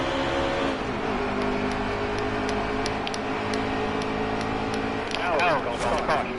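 Race cars in a Miller Lite Cup Series race at Charlotte accelerating after the green flag, a dense, steady engine drone with whining tones and a commentator talking over it.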